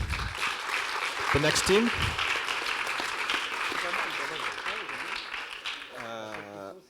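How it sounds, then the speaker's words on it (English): Audience applause for a startup presenter at an entrepreneurs' event, a full steady round of clapping that fades toward the end as someone speaks over it. "Thank you, Guillaume. Round of applause."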